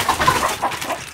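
Chickens clucking near and fairly loud while potatoes are thrown to them, several short clucks and calls overlapping in a steady, busy stream throughout.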